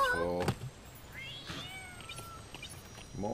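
Cats meow in a Lego Movie 2 video game, several short harmonic cries near the start and end with a thinner drawn-out mew in between over quiet game ambience.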